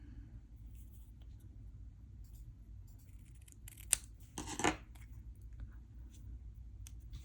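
Scissors make a few quick snips while trimming a small handmade charm, faint and close, with a brief louder cut in the middle against a quiet room.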